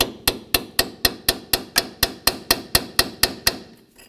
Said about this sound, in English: I'm going to use a chisel here. Basically just want to try and get in and kind of break it free.